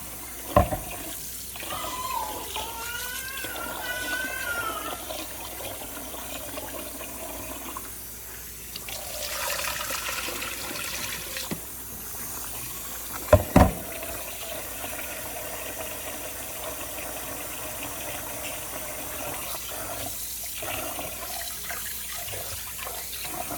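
Tap water runs and splashes as rice is rinsed in a bowl in a kitchen, a continuous moderate trickle with occasional sloshing handling and a couple of sharp knocks.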